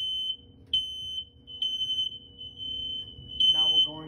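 A household smoke detector being tested in a Woonsocket home sounds a shrill, piercing electronic tone that repeats in pulses, with a voice speaking briefly near the end.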